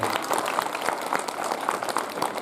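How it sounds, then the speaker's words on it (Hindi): Dense crowd applause at a school annual function in Randoh fills the hall, steady and fairly loud throughout with no pauses. "तालियां ऐसी बजाओ कि कलाकारों को भी जोश आ जाए।"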